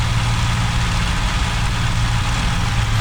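A P-40 fighter engine in the IL-2 1946 flight sim runs with the throttle cut, a steady low droning hum and rumble, constant and close, with no talk over it.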